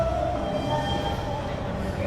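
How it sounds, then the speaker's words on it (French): An Istanbul metro train rumbles steadily nearby, a loud continuous low roar with a faint high whine running through it, no voices heard. "On attend le métro"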